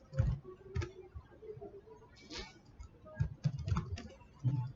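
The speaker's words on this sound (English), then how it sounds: "Just simply type" Quiet, irregular keystrokes on a computer keyboard, a short burst of typing with small pauses between clusters of taps.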